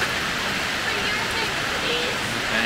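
Heavy rain pours steadily over a muddy campsite at Big Crystal Creek, a dense, constant wash of noise with no breaks across the whole stretch, loud and close.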